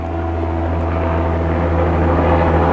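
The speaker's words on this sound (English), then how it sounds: "And a helicopter coming too." A helicopter approaches and passes overhead outdoors, a loud, continuous engine drone with steady rotor harmonics that grows slightly over a few seconds.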